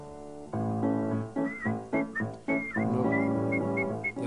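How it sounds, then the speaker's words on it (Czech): A person whistles a short tune with high melodic notes over a musical backing, moderately loud and close, with no talk. "pískáš moc hezky, to je pěkný"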